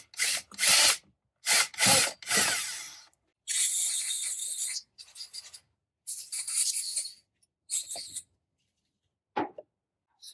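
A power drill drills and reams a hole in a throttle body in a series of short, loud whirring bursts with silent gaps between them. The later bursts are briefer and lighter.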